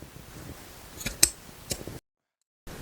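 Scissors snip through upholstery fabric on a Parker Knoll wing back chair, cutting up to the chair rail, with a few quiet close-up cuts followed by a brief silence.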